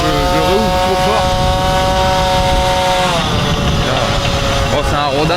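MBK scooter with a Stage6 kit, slightly rich on cold running-in, revving loud and close with a raspy buzzing two-stroke whine that rises and falls, while someone talks over it.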